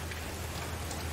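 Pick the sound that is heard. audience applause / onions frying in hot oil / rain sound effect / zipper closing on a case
rain sound effect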